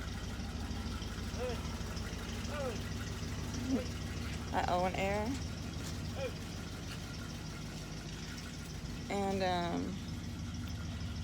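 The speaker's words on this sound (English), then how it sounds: "car is loud" A neighbour's car engine idles in a steady low rumble the whole time, close and constant, while someone talks over it in a few short bursts.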